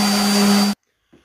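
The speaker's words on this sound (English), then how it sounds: "And we start sanding." A power sander works on pallet wood for an end table, a loud steady whine with a strong tonal hum that cuts off abruptly, then silence with a faint thump.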